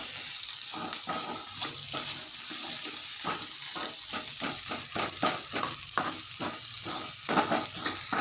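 Potato filling seasoned with salt and chili powder sautéing in a pan, a steady sizzle under repeated scraping and stirring strokes of a spoon, close and continuous.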